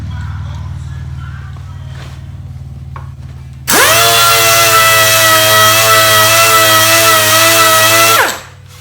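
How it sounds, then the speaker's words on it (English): A power sander whines loudly at close range while it works over dried Bondo body filler on a grille or bumper part of a 1947 Ford street rod. It runs steadily for about four seconds, then spins down. "By the time I get this sanded, the bottom should be ready."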